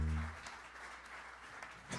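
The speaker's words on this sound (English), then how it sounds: "everybody, round of applause for Stephen Fabus, my father, who is awake." A jazz quartet concert audience gives a round of applause, a soft, steady patter of clapping that sounds somewhat distant after a brief low voice at the start.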